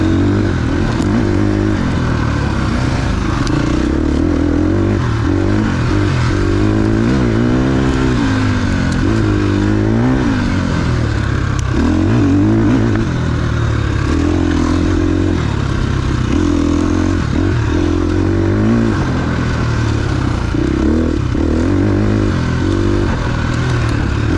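2021 KTM 350 XC-F KR Edition dirt bike ridden off-road, its single-cylinder engine loud and close, constantly revving up and dropping as the throttle opens and closes, with rattling and scraping from the terrain.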